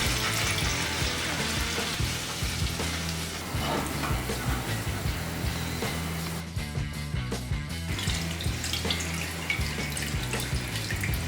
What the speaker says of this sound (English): Now add the seawater.